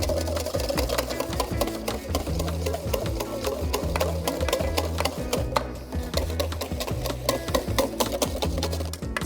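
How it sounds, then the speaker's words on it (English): Egg yolks for hollandaise are whisked briskly in a bowl, making a steady, fast rhythmic clatter of the whisk against the sides that continues without a break, close and fairly loud. "take it off the heat and whisk it."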